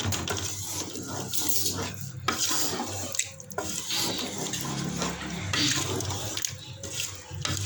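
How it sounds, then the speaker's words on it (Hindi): Chickpea cooking water poured into a pot of Lahori chana, a steady splashing trickle running throughout at moderate loudness, with faint clinks of the pot. "हमने जो चनों वाला पानी रखा था वो शामिल कर देंगे।"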